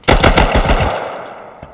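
Rapid automatic gunfire from a Rust video game match, a loud burst of about eight closely spaced shots lasting under a second, then a decaying echo and one faint later shot.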